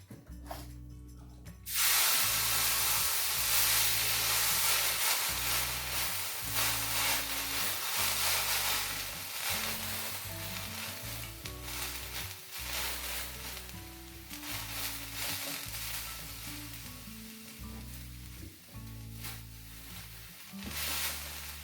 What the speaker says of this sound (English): Just watch that you're still getting steam so that you know your cloth has not dried out.